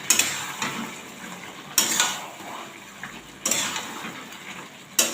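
Mutton cooking in a pan with chopped tomato and chili paste, with a continuous wet sizzle and three sharp scraping clanks of a spatula against the metal pan at a slow, regular pace.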